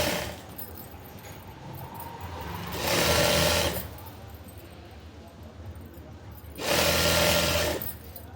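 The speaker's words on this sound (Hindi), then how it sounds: "1/4 इंच लेके इस तरह से सिलाई कर लेंगे" A sewing machine stitches a quarter-inch hem on the bottom of palazzo trousers in two short, fast bursts of whirring, with quiet pauses between runs.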